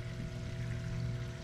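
Water gushing steadily from the top of an air lift pipe in a natural swimming pool, a continuous moderate pour and splash with a faint hum beneath, no voices.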